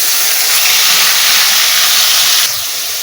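Onion, ginger, garlic, chili and tomato paste sizzles in hot oil with fried cumin seeds while cooking a giant river prawn dish. The hiss is loud and steady throughout, easing slightly near the end.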